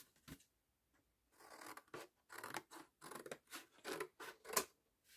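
Scissors cut recycled material for a toy train bridge, giving a series of close, crisp snips in an uneven rhythm after a quiet start, with a few rustles between the cuts.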